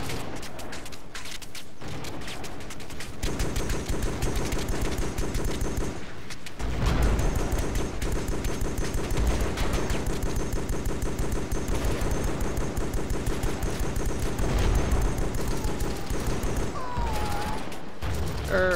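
Sustained gunfire in Joint Operations: Typhoon Rising, rapid machine-gun bursts mixed with heavier booms and mechanical clatter, loud and near, with brief pauses between volleys.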